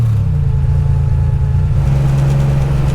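A 1987 Buick Grand National being driven, its engine giving a steady, loud low rumble from close inside the car with no talking.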